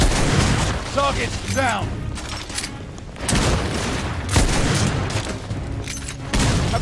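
Covering gunfire rattles in The Order: 1886, overlapping shots and booms under shouted voices, with loud bursts around the middle and near the end.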